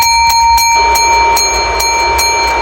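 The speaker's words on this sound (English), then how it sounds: "Who's ringing the bell?" A wrestling ring bell clangs rapidly and repeatedly at a tag team championship match, loud sharp strikes with a sustained metallic ring over arena noise.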